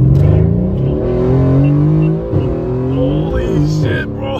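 A tuned 1000 hp Mercedes C63 S accelerates hard from inside the cabin, its loud engine tone rising and shifting through gears for several seconds.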